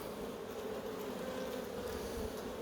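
Black honey bees buzzing at a hive in Corsica, a dense, continuous drone of many wings that holds steady and fairly close throughout, with no voices.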